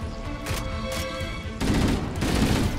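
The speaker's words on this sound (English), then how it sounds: "God damn, I love this shotgun." Shotgun fire in the Halo Anniversary video game, with a steady din of battle and gunfire in the first half, then a louder, denser burst of blasts and rumble in the second half.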